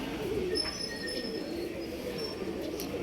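A pigeon offered for sale coos in low, soft, repeated murmurs over a hazy background hum, with a few faint higher chirps from other birds nearby.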